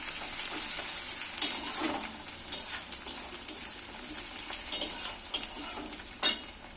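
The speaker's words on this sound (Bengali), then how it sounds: "আদা রসুন বাটা দিয়েছি সেটাকেও একটু ভেজে নেব" Ginger garlic paste frying in a pan makes a steady high hiss, broken by several sharp spatula scrapes and taps.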